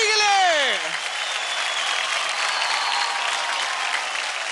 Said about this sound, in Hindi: जोरदार तालियां हो जाए स्नेहा जी के लिए